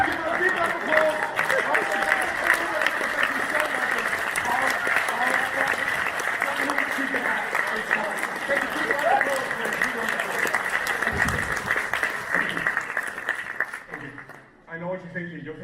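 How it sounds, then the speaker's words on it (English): An audience bursts into sustained applause for a woman on stage after a magic trick, a thick, even roar of clapping with crowd murmur, fading out near the end before a voice begins. "Give her a big round of applause."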